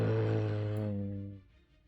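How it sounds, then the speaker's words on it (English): A low, heavy rumble swells and throbs at close range, then fades out over about a second and a half as a dark, ominous effect. "you hear what sounds like this low pulsing rumble"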